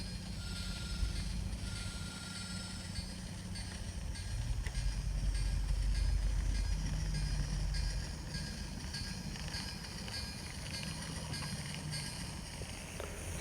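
Model railroad train running on its track, a steady faint rolling rumble with light rhythmic clicking of wheels, swelling slightly louder midway as it passes nearer, with no talking.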